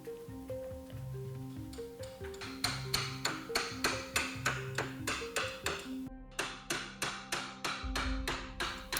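Repeated sharp taps strike a hypercar body part in a workshop, landing in a fairly even rhythm against a busy background of low musical tones.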